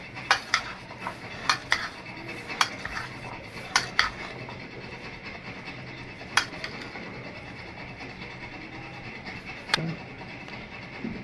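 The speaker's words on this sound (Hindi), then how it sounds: "अब सारी चीज़ों को हम मिक्स करेंगे।" A spoon mixes chana chaat with whisked yogurt in a bowl, giving sparse, sharp clinks and scrapes spread over a faint, steady background hum.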